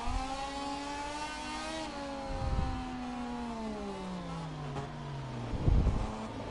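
A racing motorcycle rides back into the pit lane to change tyres, its engine note falling steadily through downshifts, with a couple of rough bursts of blips, fairly close and continuous without speech.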